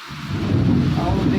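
Heavy night rain in Tamil Nadu with thunder: a deep rolling rumble swells and holds over a dense wash of downpour, loud and close, with no one speaking.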